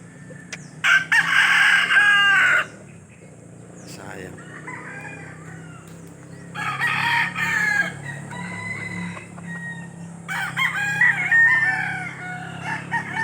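Junglefowl roosters crow loudly in three separate bursts, each drawn-out call standing out clearly against a quiet outdoor background with some low hum and faint clucking between crows.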